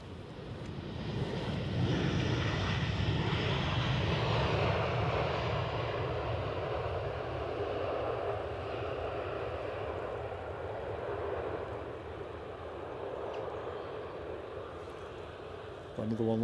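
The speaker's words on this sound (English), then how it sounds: "As we welcome in this EasyJet." An EasyJet airliner taxiing at Edinburgh Airport, its jet engines making a steady, broad roar at moderate distance under someone talking throughout.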